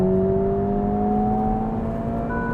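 A 2023 Honda Civic Type R engine drones steadily from inside the cabin, its pitch climbing slowly as it revs to redline, loud and continuous, with a buzzy edge.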